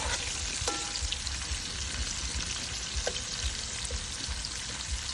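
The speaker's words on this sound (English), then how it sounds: "I'm going to let this just fry for a bit" Onions sizzle steadily while frying in a pan, a dense continuous crackle with a few faint clinks of utensils, close and alone with no talk.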